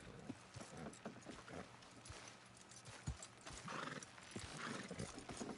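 Horses' hooves clip-clop steadily over a noisy outdoor background while pulling a load on reins, with a brief whinny and some rattling, creaking movement close by.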